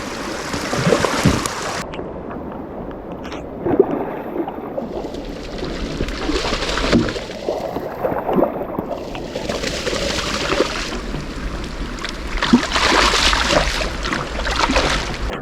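Flooding creek rushing loudly and continuously, a broad wash of turbulent water that surges and recedes in waves, close by with no voices.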